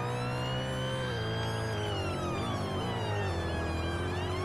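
A British NHS ambulance siren in a roleplay video game wails continuously and loudly, its rising and falling tones sweeping up and down with no talk over it.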